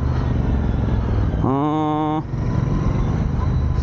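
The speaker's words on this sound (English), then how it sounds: "this is powered by the 650cc twin cylinder engine, parallel twin" A Royal Enfield Bear 650 motorcycle with a 650cc parallel-twin engine runs with a steady, close engine drone, then rises in one brief rev before settling back to a constant hum.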